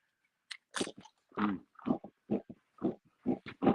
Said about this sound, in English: let me eat this chip